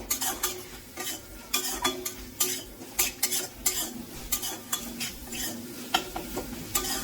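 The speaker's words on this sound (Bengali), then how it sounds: "এই মশলাটাকেও আমাদের খুব ভালোভাবে কষিয়ে নিতে হবে, যাতে কোনো রকম কাঁচা গন্ধ না থাকে।" A turmeric and red chilli powder spice paste for a rohu fish tok is fried over a low flame, with a spoon scraping the pan in rhythmic strokes over a soft, steady sizzle.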